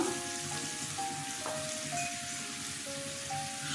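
Fish coated with turmeric fries in a pan, giving a quiet continuous sizzle and spatter under a faint steady hum, no one speaking.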